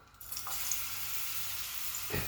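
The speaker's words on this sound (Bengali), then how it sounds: "এখানে মাশরুমগুলো একটু ফ্রাই করে নেব" Mushrooms frying in hot olive oil give a steady, fine sizzle with a soft hiss throughout, and a brief clatter near the end; no one speaks.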